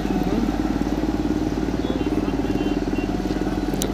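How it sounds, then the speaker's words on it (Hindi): A 2010 Volvo G930 motor grader, twelve years old and well maintained, runs at road work with a steady, loud low diesel drone and rhythmic engine chug throughout. "दोस्तों ये जो ग्रेडर है, ये वोल्वो का जीन 930 है।"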